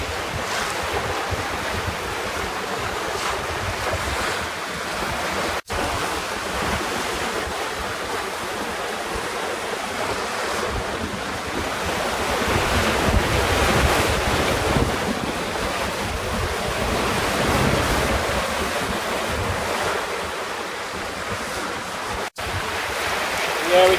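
Strong wind roars across the microphone while waves wash and slap against a small trailer sailer under sail off the Queensland coast, a constant rushing that swells louder midway.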